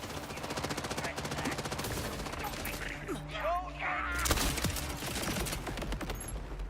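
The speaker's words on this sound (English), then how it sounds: "This Malawan weapon is kind of unique. It shoots sticky bullets on them." A sticky-bullet weapon fires in a video game, producing rapid bursts of gunfire over a steady background of game sound while a player talks.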